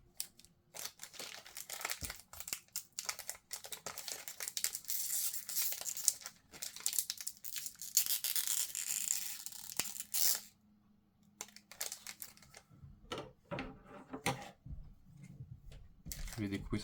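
Japanese Pokémon booster packs being opened one after another, with dense crinkling of foil wrappers, rustling and sharp tearing bursts close up, a brief pause near the middle, then more handling with quiet talk underneath.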